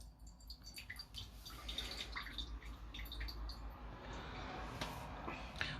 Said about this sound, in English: take the broth out. Take all that mutton juice out.